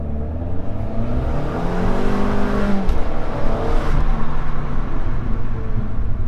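A car launches hard from a standing start in sport mode, its engine whirring and rising loudly with a gear change about midway, then pulling on steadily with no talk.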